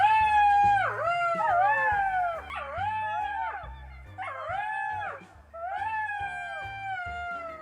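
Cartoon children imitate jackal howls with their voices, several long wavering, rising and falling cries overlapping in a loud chorus, broken by brief pauses.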